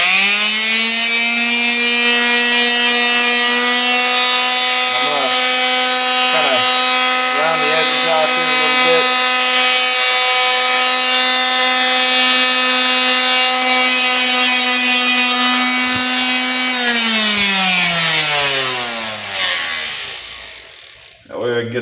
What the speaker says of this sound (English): we are sanding the end of this stock down right now